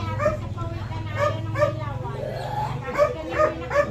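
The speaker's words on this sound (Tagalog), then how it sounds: "Naingay ang aso." A dog barks repeatedly in short, yipping bursts nearby, with a low hum running beneath for most of the time.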